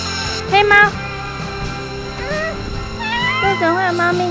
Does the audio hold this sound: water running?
no